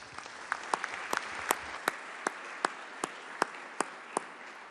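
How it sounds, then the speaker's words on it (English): Applause in a state legislature chamber, a steady wash of clapping with a few sharp individual claps standing out, moderately distant and even throughout, with no voices. "Let's give them a round of applause, please."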